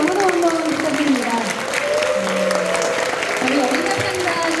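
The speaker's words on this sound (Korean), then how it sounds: "우리 어린합창단 친구들에게 뜨거운 박수 한번 부탁드립니다" Audience applauding a children's choir at a church seminar event, sustained clapping throughout with a voice talking over it.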